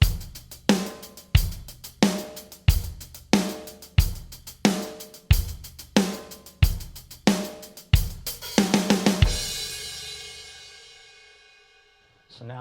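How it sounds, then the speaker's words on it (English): Drum kit playing a steady rock beat, with kick drum, snare backbeat on 2 and 4 and busy sixteenth-note hi-hat. Loud, close and regular for about eight seconds, then it breaks into a short fill and ends on a long ringing cymbal crash. "Kick is going to stay on 1 and 3, and the snare's on 2 and 4,"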